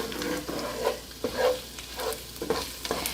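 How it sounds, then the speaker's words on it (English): A spoon stirs a butternut squash and cheddar cheese pasta sauce in a pan, giving soft rhythmic scrapes every half second or so over a quiet, steady sizzle, close and without talk. "I would say stir constantly"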